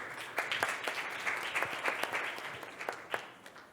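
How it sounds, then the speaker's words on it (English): Steady applause from an audience at a health tech startup pitch event, many hands clapping together in a dense, continuous patter that gradually softens toward the end. "Round of applause."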